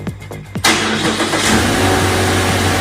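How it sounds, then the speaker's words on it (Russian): A car engine started remotely through a phone-app alarm with autostart: near-quiet at first, then it cranks and catches at once and settles into a steady, fairly loud idle. "Ожидаем, пока автомобиль запустит двигатель."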